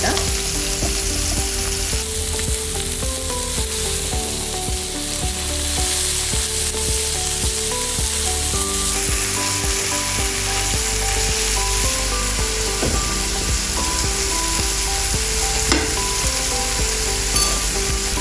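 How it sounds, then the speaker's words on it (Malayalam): Steak sizzles loudly in a hot pan while being basted with butter and olive oil, a dense, constant crackling fry heard up close with no one talking. "ഇടയ്ക്കിടയ്ക്ക് നമുക്ക് ഈ ബട്ടറും ഒലിവ് ഓയിലും ചേർന്നത് ഇതിൻ്റെ മുകളിൽ ഒഴിച്ച് കൊടുക്കാം."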